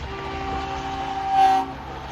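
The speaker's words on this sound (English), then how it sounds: "They all got to blow the horn." Horns blow during a truck and horn parade as vehicles pass by a waiting crowd, a steady sustained tone swelling louder for a moment near the end over a continuous rumbling background.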